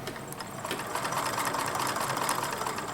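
A sewing machine stitches quilt pieces together for a Sunbonnet Sue and Overall Sam baby quilt, running steadily and close with a continuous rapid mechanical whir for the whole stretch.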